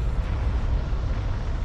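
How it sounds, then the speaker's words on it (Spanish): Deep, sustained rumbling blast of the Mount Tambora volcanic eruption on the Indonesian island of Sumbawa, a heavy low roar that holds steady and loud throughout. "La erupción del monte Tambora, situado en la isla indonesia de Sumbawa, es la mayor jamás registrada."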